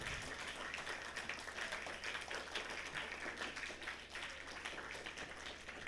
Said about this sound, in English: May I have a round of applause for 6 Elliott?